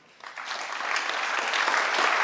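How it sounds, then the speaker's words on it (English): A conference audience breaks into applause for a speaker, starting abruptly after a brief quiet moment and swelling into dense, sustained clapping. "let's give a big round of applause to Tony."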